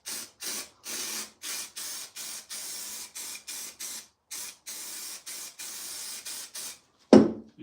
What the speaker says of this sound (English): you can also spray the actual carpet and then lay that over flat